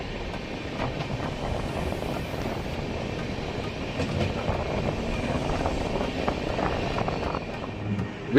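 Vasco–Yesvantpur express train rolling into Harihar station, heard from on board as a steady rumble with rhythmic clickety-clack of wheels over rail joints, moderately loud and unbroken.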